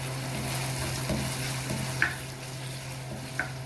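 Meat frying in oil in a pan for pasta, giving a soft continuous sizzle with a low hum and two faint clinks of stirring.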